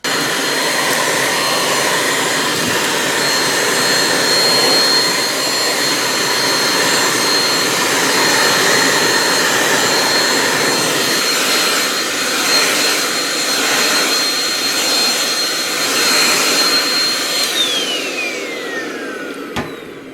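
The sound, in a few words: Meiyou stick vacuum cleaner running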